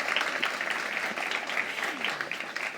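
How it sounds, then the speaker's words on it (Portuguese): Audience applause for a guest professor at a public panel on sustainable cities, a dense, steady wash of many hands clapping at moderate volume, with a faint voice murmuring underneath. "Palmas."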